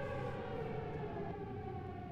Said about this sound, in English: This is a tornado siren.